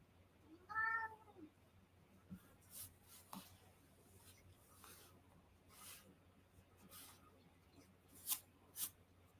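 A house cat gives one short meow early on, soft and close, followed by quiet rustling and scratching in an otherwise still room.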